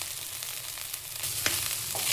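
Cooked rice is stirred in a pan with garlic chili paste and salt, a steady sizzle close by, punctuated by a few sharp scrapes of the spoon against the pan.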